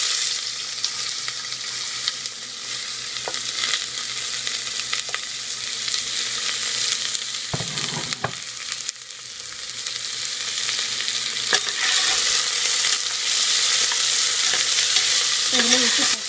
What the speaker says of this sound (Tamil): கலர் சேஞ்ச் ஆகிற வரைக்கும் வெங்காயத்தை நல்லா வதக்கிடணும்.